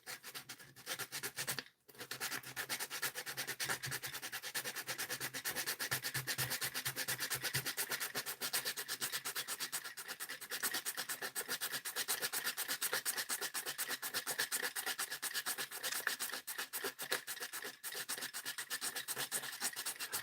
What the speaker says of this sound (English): Okay, so we just gotta sand it down, baby.